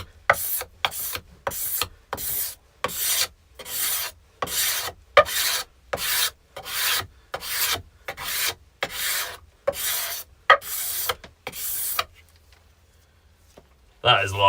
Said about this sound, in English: we can do like a light sand on this with some high grit.